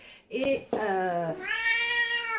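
A pet cat meows in a few drawn-out, tonal calls, close and fairly loud, the last cry long and wavering.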